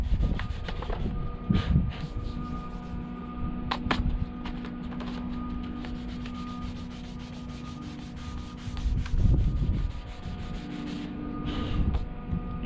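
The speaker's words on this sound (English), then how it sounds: "I try to sand all in one direction, not to create multiple lines." Hand sanding a painted Jeep Wrangler JKU grille with sandpaper wrapped around a block, soft steady rubbing strokes in one direction, close and quiet, with a low background hum.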